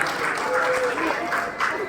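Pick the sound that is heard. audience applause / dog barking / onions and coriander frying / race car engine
audience applause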